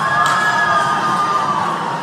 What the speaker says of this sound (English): I think the crowd's happy.